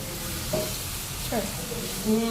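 A Gujarati kalangda vegetable curry with salt, chili, turmeric and cumin simmers in oil, giving a steady, close sizzle with soft stirring and a faint voice in the background.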